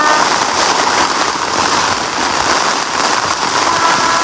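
Heavy typhoon rain pours down on a solo campsite, a dense, loud, unbroken hiss of drops pounding the surface close by for several seconds, with no talk over it.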